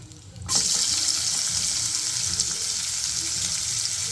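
Chopped onions drop into a hot mustard seed, urad dal and asafoetida tempering in oil, bursting into a loud, steady sizzle that holds unbroken after a quiet start, close by for beans usili.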